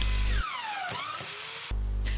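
A drill bores a hole for mounting an LED tube studio light, whining at a high pitch, dipping in speed and briefly cutting out before spinning up again, loud and close.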